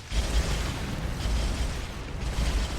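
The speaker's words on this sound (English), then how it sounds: "One Punisher tank gets destroyed." A Punisher tank is destroyed in a real-time strategy battle, producing a continuous loud explosive roar with deep booming rumble that carries through the whole moment.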